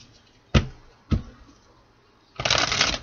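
Tarot cards being shuffled by hand: two sharp riffling bursts a half-second apart, then a longer, dense riffle, loud and close with no talking.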